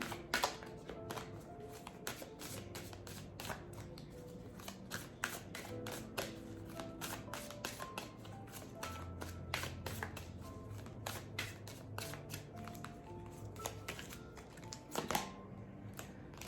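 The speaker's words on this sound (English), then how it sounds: "So let's get a card pulled for June." Tarot cards shuffled by hand at close range make a continuous riffling, flapping patter with scattered sharper taps and a brief louder burst near the end.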